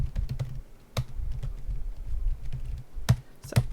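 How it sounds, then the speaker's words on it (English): Computer keyboard typing during statistics work in R, a steady run of soft key taps with a few sharper, louder strokes near the end, close and without talk. "Let's type this up here."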